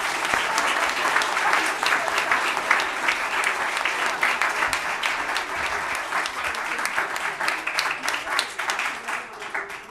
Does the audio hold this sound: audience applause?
yes